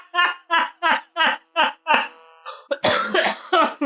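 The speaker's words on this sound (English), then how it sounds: "You really got me when I start coughing" A run of about seven sharp, evenly spaced coughs, loud and close, recorded during a podcast and followed by a burst of talking and laughter.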